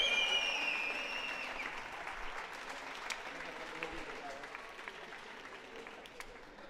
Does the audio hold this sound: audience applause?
yes